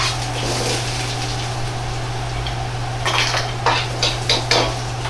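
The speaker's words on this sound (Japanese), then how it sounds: "ニンニク生姜を入れ炒めます" Garlic and ginger stir-fried in chili-infused oil in a wok for spicy chicken with cashews, heard as metal utensil scrapes and clatters against the pan over a steady low hum, growing busier toward the end.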